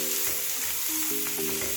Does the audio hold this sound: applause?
no